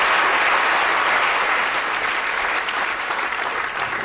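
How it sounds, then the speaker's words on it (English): Audience applause at a Royal Institution Christmas Lecture, a dense sustained clapping from a large crowd throughout, loud and even, slowly tapering toward the end. "Give them a big round of applause for keeping track there."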